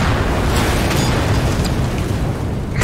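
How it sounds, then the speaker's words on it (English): Random explosions in a Jerry's Mod video game session form a dense, continuous, loud rumbling roar of booms and bursts with no clear gaps. "Just random explosions going off."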